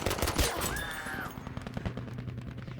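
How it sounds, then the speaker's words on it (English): Rapid automatic gunfire from fast-firing weapons in the World War II shooter Battlefield 5, with dense bursts of shots continuing throughout amid game effects and a brief rising tone. "running and gunning with some of the most fast-firing weapons of all"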